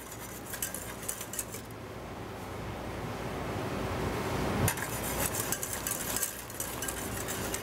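A utensil stirs hot chocolate in a pot as it nears the boil, a steady scraping swish with light metallic clinks, close and continuous, briefly easing off midway.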